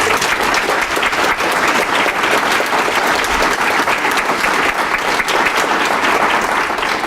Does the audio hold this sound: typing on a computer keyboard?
no